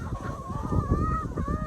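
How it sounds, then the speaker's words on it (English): A flock of chickens on a farm clucking and murmuring close by, with a drawn-out warbling call rising above a busy bed of overlapping low bird chatter. "Look at all these chickens"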